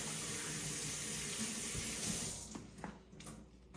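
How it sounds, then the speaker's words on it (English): Hands washed with soap under a running kitchen tap, a steady close splash of water that eases off and turns patchier toward the end. "you're just going to wash your hands real quick"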